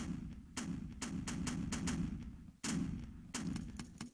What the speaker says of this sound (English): I can basically shoot my gun